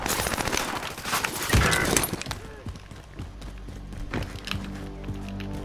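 A dense burst of gunfire in Call of Duty: Modern Warfare crackles loudly for the first couple of seconds and then fades to quieter game noise, while players talk over it.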